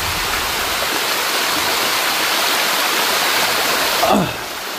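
A small waterfall in rugged forest makes a loud, steady, close-up rush of falling water, with a brief vocal whoop near the end.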